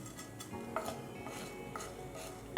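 Fenugreek and cumin seeds dry-roasting in a pan over a low flame, heard as soft, intermittent scrapes and light metallic clinks of stirring over a quiet background hiss.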